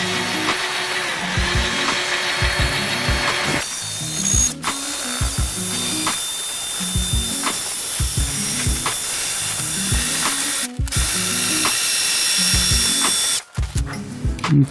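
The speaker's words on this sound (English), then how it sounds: "I'm going to use a drill to put this together, and I've got my drill set on a low speed" A power drill on low speed drives a threaded rod through the stacked wooden pieces of a handmade Christmas tree, a close, steady rattling whir with repeated ratcheting clicks and short pauses between bursts.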